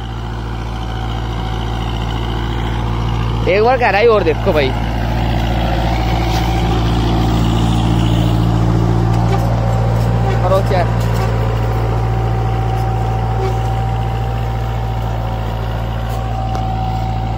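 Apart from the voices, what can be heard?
Kubota 4x4 tractor pulling cultivator and disc harrow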